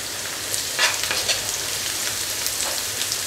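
Oil sizzles and crackles steadily in a pan as turmeric goes into frying ingredients for an Andhra fish curry, with a few soft stirring scrapes over the close, even hiss.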